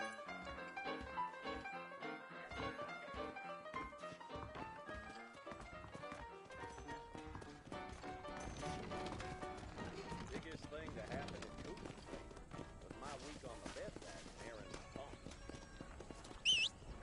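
A horse gallops in Red Dead Redemption with Undead Nightmare: rapid, rhythmic hoof clip-clop carries through the whole stretch, mixed with game music and other sound.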